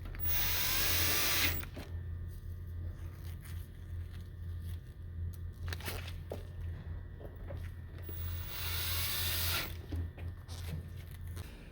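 A power drill on the top cover of a Master Chef VWD1068BLS water cooler, driving screws in two loud sustained whirring bursts at the start and near the end, with quieter handling and clicks in between.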